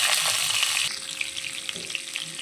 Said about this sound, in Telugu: ఈ వంకాయలన్నీ చక్కగా ఇలాగా ఈ పౌడర్ అంతా ఈ వంకాయల్లో పెట్టేసుకొని సిమ్లో పెట్టుకొని చక్కగా ఫ్రై చేసుకోవాలి